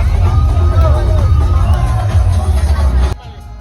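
Dense crowd hubbub at an evening street food festival in Mangaldan, many voices chattering with scattered cheers and whoops, loud and continuous, cutting off abruptly near the end.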